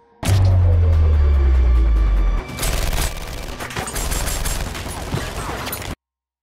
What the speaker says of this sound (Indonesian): tiba-tiba muncul 3 pria melepaskan tembakan secara membabi buta